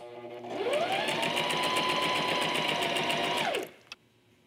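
A Brother sewing machine stitching with its thread tension set to the highest level runs as a steady, fast mechanical whir for about three seconds, close and loud, then winds down and stops with a single click after.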